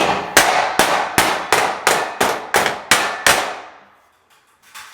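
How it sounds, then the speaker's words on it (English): A hammer strikes metal tabs to bend them on an expandable steel door frame, about eight sharp ringing blows in a steady rhythm. The blows are loud and close, followed by a brief quiet and a fainter knock. "It's gonna get loud, and I have to get in there with my hammer."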